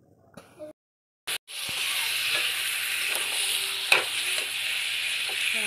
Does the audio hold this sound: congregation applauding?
no